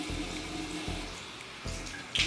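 Tap water runs and splashes as a face mask is rinsed off, with a close, steady flow interrupted by a few brief pulses of splashing.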